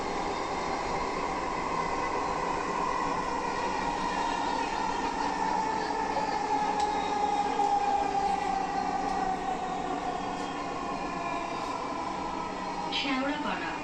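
A Dhaka metro rail train runs between stations with a steady rumble and a rising and falling electric motor whine, heard from inside the carriage.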